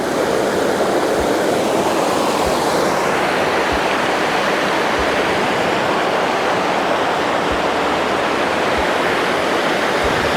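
Water rushes continuously over a waterfall near Jagdalpur in Chhattisgarh, a loud, dense roar that holds steady throughout, with no voices.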